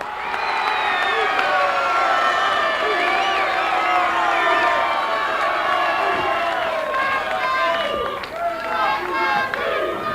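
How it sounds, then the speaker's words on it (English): A large wrestling arena crowd cheers and applauds as the Junkyard Dog, a former North American heavyweight champion, comes to the ring, a loud, sustained roar with whoops running throughout. "There's quite a lot of applause for all of these men"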